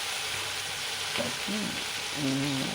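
Spice paste with tomato and cinnamon frying in a pan for Bengali dhokar dalna, a steady close sizzle with faint tonal hum, no clear stirring strokes.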